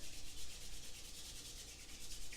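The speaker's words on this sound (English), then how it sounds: "rub the hands faster" Two palms rub together quickly and vigorously, making a continuous close, breathy swishing friction sound with a slight pulsing rhythm from each back-and-forth stroke, alone without any talking.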